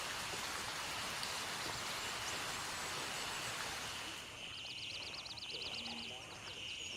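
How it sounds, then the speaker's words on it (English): Heavy rainfall in a video game hisses as a continuous, dense wash of noise that stays level throughout, with faint thin tones appearing near the end. "With the new audio, the rain is definitely a lot louder,"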